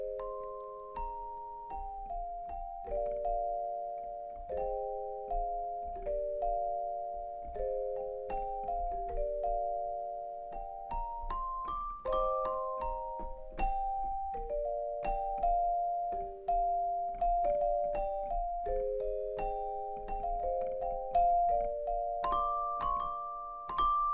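A bell preset in the Spectrasonics Keyscape VST plays a slow melody of clear, ringing struck-bell tones, single notes and chords sustaining and overlapping, heard alone with no talking.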